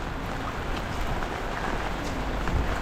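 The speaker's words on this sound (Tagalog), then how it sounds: "Lakas ng ulan guys oh." Heavy rain pours down in a dense, steady roar with no breaks, loud and close throughout.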